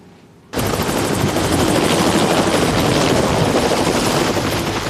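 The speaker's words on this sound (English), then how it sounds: "19-year-old Cody McQuillan was transported by helicopter to Utah Valley Regional Medical Center." A medical rescue helicopter transporting a fall victim to Utah Valley Regional Medical Center starts abruptly after a brief quiet moment, then its rotor chop and turbine whine continue loud and steady close by.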